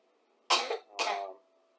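Two dry coughs in quick succession, close and fairly loud, each a short harsh burst with near silence around them and no talk.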